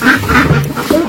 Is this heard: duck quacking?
yes